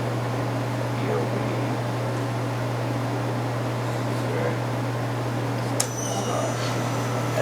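A Romi M17 CNC flat bed lathe with Fanuc control, spindle running at 600 RPM, gives a steady low hum with a faint even whir, quiet and constant, with one brief click near the end.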